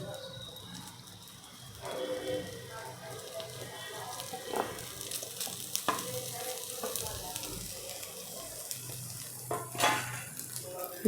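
Grated coconut is stirred in a pan while making rice modak, a soft sizzle with spoon scrapes and occasional clinks against the metal, rising in short bursts over faint background.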